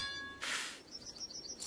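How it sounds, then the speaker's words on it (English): Bird call ambience layered into a League of Legends soundscape: a brief, faint high chirping pattern after a short burst of noise, sitting low in the mix with no voices. "we can just add in that tiny bit of bird call there"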